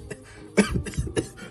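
A single sharp cough, close and fairly loud, followed by a couple of smaller throat-clearing bursts.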